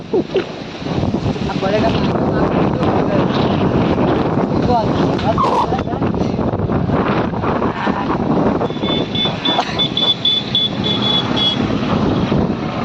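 Strong storm wind roaring through a village, a loud, continuous buffeting rush with gusty surges and rattling, close to the microphone throughout.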